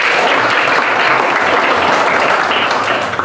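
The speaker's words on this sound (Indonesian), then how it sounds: "Tepuk tangan dulu semua ya" A classroom full of people claps steadily and loudly for a few seconds, dense and continuous, tapering slightly at the end.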